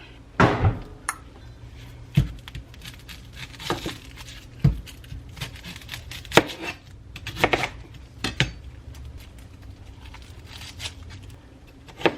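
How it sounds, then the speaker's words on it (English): Knife chops an onion on a board in a home kitchen, producing a handful of sharp, irregular knocks spaced a second or two apart, fairly close and alone. "I should cut up an onion and put it in here too"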